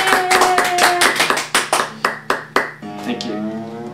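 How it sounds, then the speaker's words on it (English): A small audience claps briefly at a guitar setup demonstration, first a dense patter that thins into a few sharp, separate claps over a lingering guitar tone. "Can I get some applause?"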